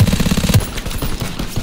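A machine gun in the video game Call of Duty WWII fires a rapid, loud burst of evenly spaced shots that stops abruptly, followed by quieter rattling game noise.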